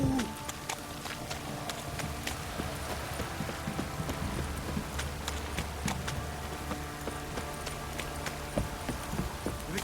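Horse hooves clip-clop steadily across the full stretch in The Witcher 3 during rain, a continuous close trotting rhythm with a low ambient rumble and no voices.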